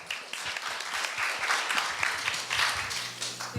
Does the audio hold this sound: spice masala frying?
no